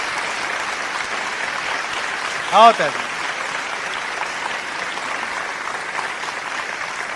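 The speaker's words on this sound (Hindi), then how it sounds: "और जोरदार तालियों के साथ।" Loud, sustained audience applause at a Dubai mushaira poetry gathering, a dense wash of clapping throughout, with a brief spoken call from a voice near the middle.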